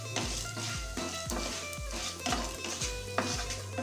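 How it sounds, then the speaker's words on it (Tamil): Coriander seeds and cumin are dry-roasted in a pan, with repeated rhythmic metal clinks and scrapes of a spoon against the pan at a close distance, fairly quiet, over a faint background hum. "இவ்வளோதும் போட்டு ஒரு நிமிஷம் வதக்கிக்கலாம்"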